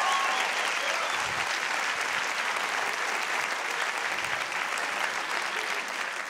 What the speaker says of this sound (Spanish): Fuerte aplauso para el Ivo de Juárez, donde sea que esté